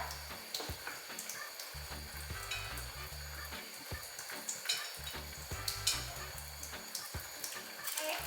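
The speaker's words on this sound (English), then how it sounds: "you're gonna do 2 tablespoons of your coconut oil" Coconut oil sizzling and crackling steadily in a pan for Jamaican cabbage, with soft irregular pops and a low background hum throughout, no voices.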